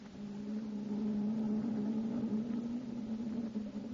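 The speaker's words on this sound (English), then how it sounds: "Those engines sound good." The engines of the first atomic submarine, underway at sea, hum as a steady low drone heard from below decks, even and faint throughout with no voices.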